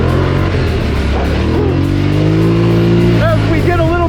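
Engine of a Polaris Scrambler XP 1000 S ATV on a trail revs loudly as the throttle opens, a steady droning roar with rising pitch and a brief higher whine near the end.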